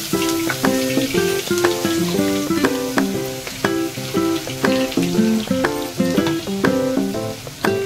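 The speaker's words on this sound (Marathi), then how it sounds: "तेलामध्ये कांदा टाकताय." Onion frying in hot oil together with ground coconut masala for a prawn masala: a continuous crackling sizzle beneath a loud, rhythmic melodic music track with regular plucked notes.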